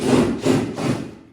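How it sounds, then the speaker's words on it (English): Screws are cut out of a wooden board with a rasping, saw-like tool, three close, loud back-and-forth grinding strokes in quick rhythm before stopping. "Now we're trying to cut the screw."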